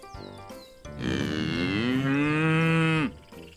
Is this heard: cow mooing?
yes